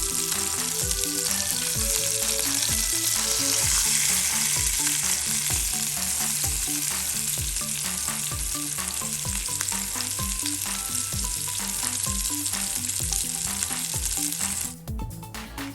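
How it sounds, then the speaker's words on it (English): Steelhead fish steak sears in a hot pan, giving a loud, steady frying sizzle throughout with small rhythmic clinks, cutting off abruptly near the end. "So our pan is ready and hot, so we start searing our fish until it's cooked on both sides"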